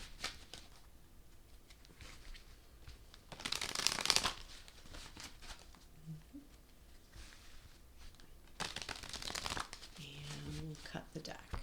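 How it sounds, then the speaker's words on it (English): A Black Cat Tarot deck is shuffled by hand in two short, soft bursts of riffling and card friction, under quiet talk. "So let's do a couple shuffles here."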